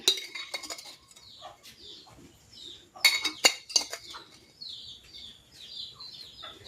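Grated taro is mixed with grated coconut, sugar and a little salt, with a utensil clinking and scraping against a bowl in irregular bursts, a sharper cluster midway, and faint bird calls in the background, no talking.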